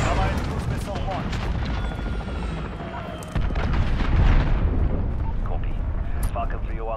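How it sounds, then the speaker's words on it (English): Explosions and weapon fire in a Modern Warfare multiplayer match: heavy booming blasts and continuous gunfire, with a louder rumbling impact partway through, under players' voices and in-game callouts. "Allied cruise missile launched"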